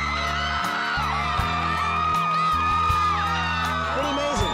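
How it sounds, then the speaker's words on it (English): A crowd gathered outside a house cheers, whoops and yells continuously, with many overlapping voices and rising shouts layered over a steady background hum. "when we pulled up in front of the house, there was already a crowd gathered outside"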